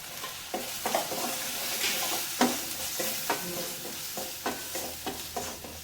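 Spices and chili powder sizzle and crackle steadily in a hot pan, with repeated scraping as a spoon stirs them, close up and with no talking.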